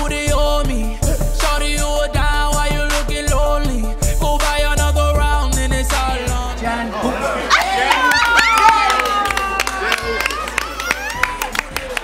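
Party crowd at a birthday celebration in Marrakesh clapping along to loud pop music, then cheering and chattering as the music fades, with scattered claps and voices close by.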